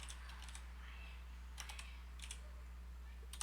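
Computer keyboard typing in a quiet room: several short bursts of crisp key clicks come in quick clusters over a constant low electrical hum, fairly close and soft, with no talking.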